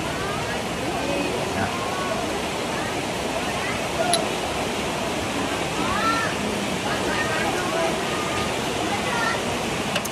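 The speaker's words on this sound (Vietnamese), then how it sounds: "nghe tiếng suối chảy" A mineral stream flows nearby with a steady, dense rush of water, broad and continuous, with faint scattered background sounds and no clear voices.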